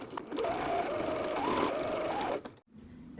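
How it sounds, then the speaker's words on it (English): A sewing machine stitches tote bag fabric 3/8 inch from the edge, a steady fast whirring hum running continuously for a couple of seconds before stopping abruptly. "I'm going to stitch 3/8 inch from the edge, and I'm going to back stitch quite a lot so that it's nice and strong."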